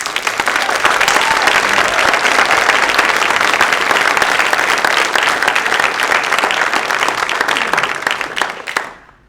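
A debate audience for the House of Delegates 28th District breaks into loud, sustained applause. The clapping holds steady for about nine seconds with no talk, then fades out quickly at the end.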